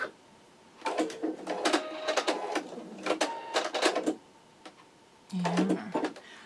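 An embroidery machine stitches out an in-the-hoop wallet, giving bursts of fast mechanical tapping and whirring in several runs separated by pauses.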